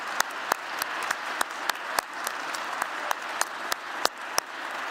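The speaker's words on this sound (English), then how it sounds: "let's give these young people a round of applause" An audience applauds at a winter university commencement ceremony in a steady wash of clapping, with a few sharp nearby claps standing out.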